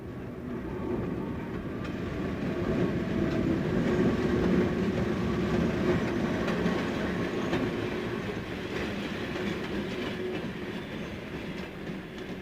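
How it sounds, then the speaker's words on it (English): A Pennsylvania Railroad commuter train of four Owl-Eye MP54 electric cars runs southbound at Eddystone, south of Philadelphia, a loud steady rumble with rhythmic clickety-clack of wheels over rail joints, swelling and fading slightly as it passes, no voices. "4 Owl-Eye MP54s had a southbound commuter train"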